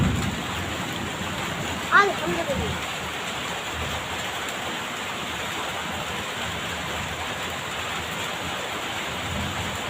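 Heavy rain pours onto a courtyard in a steady, dense wash of noise, close and constant, with a person speaking briefly over it.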